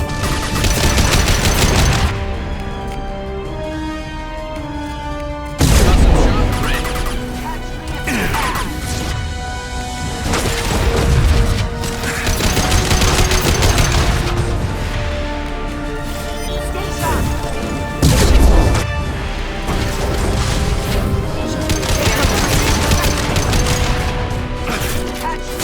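Mass Effect 2 firefight: sustained gunfire bursts and heavy crashing shockwave blasts, loud and dense throughout, with strong impacts recurring every few seconds.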